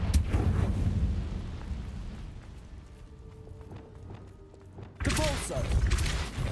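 Confringo fire spells blast in the video game Hogwarts Legacy, heavy booming explosions with rumbling tails, one burst at the start and another loud hit near the end, over game ambience.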